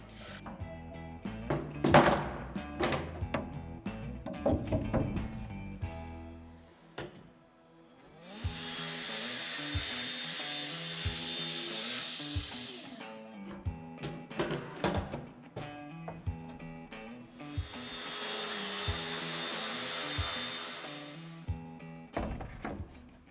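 A saw cuts three pieces to 544 millimetres in a workshop, with two loud sustained cutting passes of about five seconds each, set among clattering wood, knocks and handling noises.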